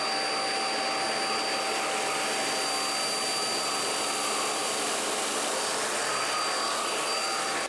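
Eureka Flash lightweight stick vacuum cleaner running on its carpet setting, a steady, loud high-pitched motor whine with airy hiss, continuous and unchanging from start to finish.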